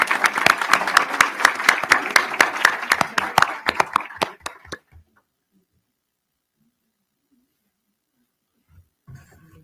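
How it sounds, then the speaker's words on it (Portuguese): Audience applause at an official ceremony honoring Brazilian psychology at the São Paulo Legislative Assembly, dense clapping for about five seconds that thins out and stops, followed by near silence. "mais uma salva de palmas, por gentileza."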